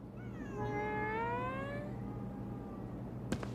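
A nekomata cat yokai in the video game Ghostwire Tokyo lets out one long, drawn-out meow that wavers in pitch, clear and prominent over a steady low game ambience, ending with a brief click.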